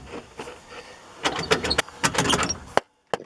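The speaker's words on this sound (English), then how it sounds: "You can see and hear this axle is positively blown." A blown front axle on a 1997 Chevy Silverado, jacked up with the wheel turned by hand, gives irregular clicks and knocks, close and fairly faint, bunching together before a brief silence and one last click.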